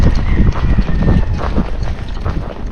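A young Missouri Fox Trotter gaited horse clip-clops close by, its hooves striking in a steady, hurried rhythm over continuous low rumbling noise.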